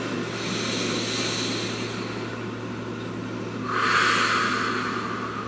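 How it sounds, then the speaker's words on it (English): A single slow, deep breath drawn in and let out, soft and airy, close to the ear over a steady low background hum, with no one talking. "Please take a nice deep breath."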